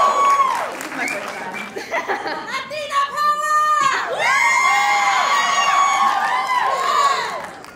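A large crowd at a Marvel fan event for Multiverse of Madness cheers, whoops and claps, loud and sustained, with shouts and excited voices rising over continuous applause throughout.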